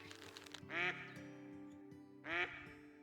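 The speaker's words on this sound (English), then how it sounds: "I'd really like to get a shot on this duck here" Two loud nasal duck quacks in the hunting game Call of the Wild, close by, about a second and a half apart, over a steady low game-world hum.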